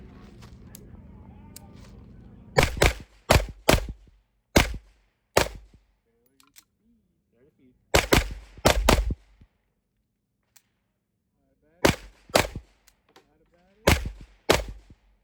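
Pistol shots from a Springfield Prodigy and a Live Free Armory Apollo 11 at an outdoor range, loud sharp reports fired in pairs and quick strings with pauses between, over a faint background.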